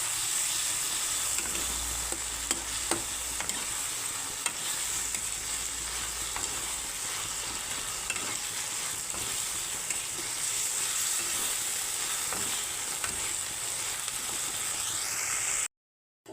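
Ginger-garlic paste sizzles with prawns in a frying pan for potol chingri, a loud steady close-up hiss and crackle with occasional stirring scrapes, ending abruptly.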